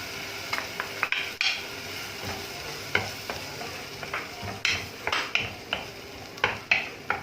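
Onion frying in a pan for chicken liver, with a low steady sizzle under repeated scraping and clinking strokes of a utensil against the pan, close and irregular.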